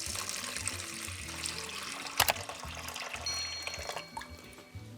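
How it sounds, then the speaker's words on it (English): Tap water runs steadily into an Instant Pot, a continuous splashing pour with a trickling tone and a brief sharper clatter midway, close and fairly quiet with no voices. "So I'm adding 3 cups of water to my Instant Pot."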